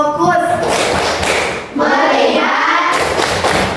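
A group claps out the rhythmic 'tepuk fokus' clap chant, with loud, dense hand claps overlapping, a short dip midway before the clapping resumes, and voices mixed in.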